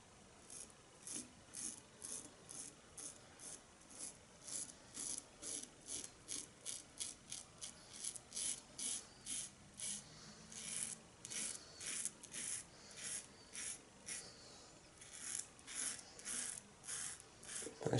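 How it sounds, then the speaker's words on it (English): A Wickham's 1912 razor scrapes through thick shaving lather in quick, regular strokes, a close, crisp rasping that repeats steadily with no voices. "It's just the weight of the razor doing its thing and providing a wonderful shave"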